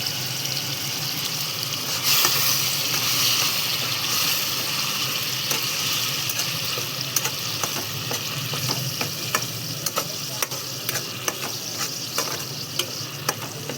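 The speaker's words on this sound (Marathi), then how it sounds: "चला आपण आता मसाला सगळा वाटलेला हे टाकून घेऊया." Ground homemade masala frying in hot oil in a kadai for chicken dum biryani, a steady close sizzle with a hiss that swells after a couple of seconds and scraping stir strokes throughout.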